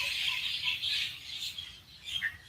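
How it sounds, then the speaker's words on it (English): A flock of black birds with white-striped wings calls continuously from a rooftop near a river at sunrise, a dense chorus of overlapping chirps and squawks at steady, moderately close loudness. "The next wave of birds are these black birds with like white stripes on their wings."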